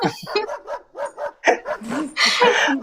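A young puppy about six months old barks repeatedly at close range, with sharp yips coming in quick succession and loud, busy barking near the end.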